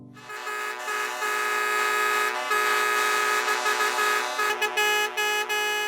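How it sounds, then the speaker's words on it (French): Several car horns honk together in a sustained, dense chorus, loud and overlapping for the whole stretch with brief dips near the end; no voices are heard. "Concert de klaxon en 2013."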